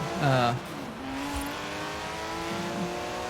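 Racing car engines in the video game Forza Horizon 4 hum steadily throughout, with a louder rev burst near the start, mixed under a talking voice.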